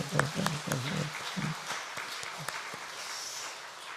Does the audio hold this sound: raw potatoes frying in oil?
no